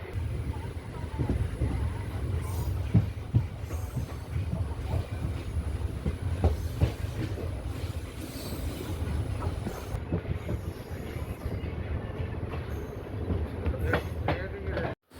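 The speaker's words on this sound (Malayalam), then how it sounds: "അപ്പം തിരുവനന്തപുരം സൗത്ത് റെയിൽവേ സ്റ്റേഷനിൽ നിന്ന് നമ്മളങ്ങനെ എടുക്കുകയാണ്." A passenger train rolls along the track out of Thiruvananthapuram South railway station toward Balaramapuram, heard from the rear coach as a steady low rumble with rhythmic wheel clicks and faint hiss, continuous throughout.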